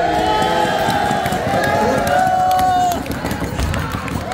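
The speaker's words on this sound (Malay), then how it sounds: "tepukan untuk effort kumpulan 6" Applause and cheering from participants at a corporate team-building event, a dense loud wash of clapping with crowd voices, fading lower after about three seconds.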